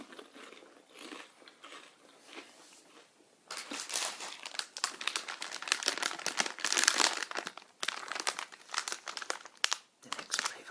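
A bag of UK Worcester sauce flavour crisps crinkles close up, quiet handling at first, then louder, dense bursts of crackling plastic rustle with occasional crunchy bites.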